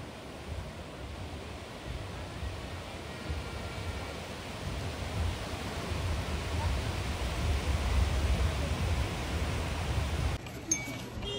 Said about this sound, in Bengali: একটা বড় ঢেউ আসছে।